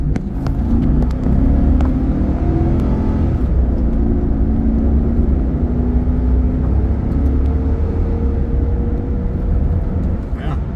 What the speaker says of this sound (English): I'm going to accelerate kind of hard.